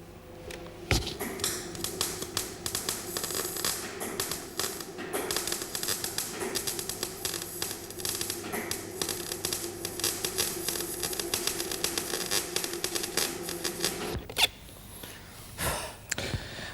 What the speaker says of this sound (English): I'll build up the flange with a piece of sheet I've cut and prepared and clamp ready to tack weld.